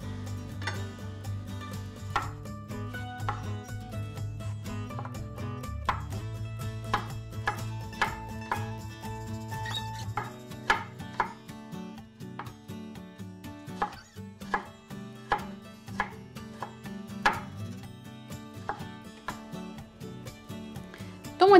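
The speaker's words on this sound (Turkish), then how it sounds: "Üç adet kabuğu soyulmuş domatesi küçük küçük doğruyorum." Knife chopping three peeled tomatoes into small pieces on a board, a steady run of close, crisp taps that grows sharper and more spaced in the second half, over low background music.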